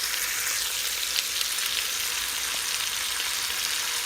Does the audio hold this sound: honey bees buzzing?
no